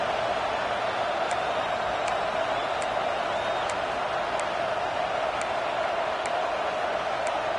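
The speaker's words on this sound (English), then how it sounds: "Man, this crowd really affecting the football game." A home stadium crowd roars at a college football game between Michigan and Notre Dame, a steady, dense wash of cheering that holds at an even level throughout with no clear peaks or pauses.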